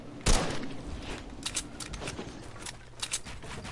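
Gunfire in the video game Fortnite, a sharp crack followed by a string of lighter, evenly spaced shots and clatter at moderate volume over a steady game background.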